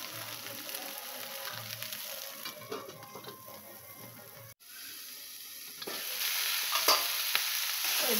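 Food sizzling steadily in a pan, with stirring scrapes and clatter early on, then a brief pause before the frying resumes more muffled and grows slightly louder as the pan sits covered.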